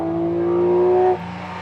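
A 2023 Porsche 718 Cayman GT4 RS engine holding a high, steady, tonal wail heard close from inside, then dropping abruptly in pitch and volume near the end as revs fall.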